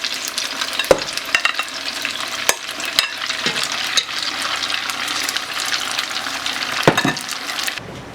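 Spaghetti balls deep-frying in oil at 330 degrees crackle and bubble steadily, with several sharp knocks and clatters of tools over the continuous sizzle, close and without speech.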